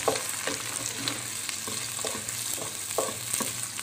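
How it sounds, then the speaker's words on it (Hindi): Onions sauté lightly in a pan for hari mirch keema, a close, steady sizzle punctuated by regular spatula strokes roughly every half second, with no voices over it. "सौते करनी है बस मैंने प्याज को"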